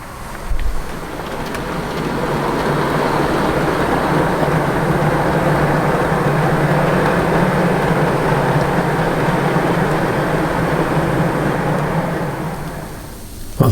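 Model railway train with tail lamp runs steadily on the layout, a continuous rumbling rolling sound held at an even level for about twelve seconds before fading out; no talking.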